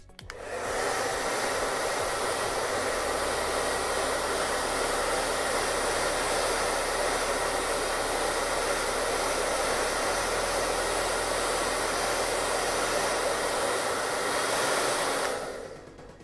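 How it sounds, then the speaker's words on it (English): A regular blow dryer running on its hottest setting heats a layer on a Sabine Wren helmet, a loud steady rushing whoosh that starts abruptly, holds constant for about fifteen seconds, then cuts off, with no speech. "take a regular blow dryer, hair dryer, put it on its hottest setting"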